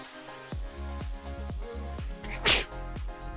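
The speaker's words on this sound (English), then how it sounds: "That was a big sneeze." A single loud sneeze bursts out over a quiet background of regular soft thumps, close to the microphone.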